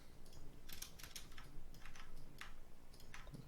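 Computer keyboard keys tapped while modeling in Maya, a handful of separate clicks spread irregularly over a few seconds, close and fairly quiet over a steady low background hum.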